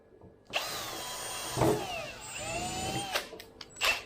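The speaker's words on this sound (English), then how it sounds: "We need to drill one hole in there with a bit of an angle like that." A power drill with a 4mm bit whirs in several short bursts, drilling an angled hole for a water tank filter, rising and falling in pitch as it bites, with brief pauses and small clicks between runs.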